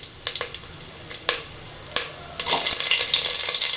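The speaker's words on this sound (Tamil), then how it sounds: "நாலஞ்சு சின்ன வெங்காயத்தை கட் பண்ணியிருக்கிறேன், அதையும் இப்போ சேர்த்துக்கலாம்." Chopped small onions drop into hot oil with curry leaves for a mutton kuzhambu, giving sharp, close crackles and spits at first and then a loud, steady sizzle with stirring.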